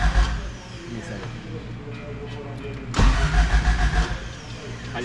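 A car engine cranks with a steady churning whir, then fires up about three seconds in, rising louder into a rough running note that continues to the end.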